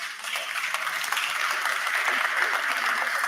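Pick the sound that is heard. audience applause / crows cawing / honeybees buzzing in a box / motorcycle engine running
audience applause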